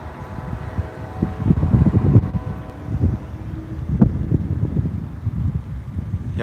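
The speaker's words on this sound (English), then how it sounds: "Yeah, I can probably hear the wind now." Wind gusting across the microphone during a North Carolina storm chase, a loud low buffeting roar that swells and eases in uneven waves with no talking.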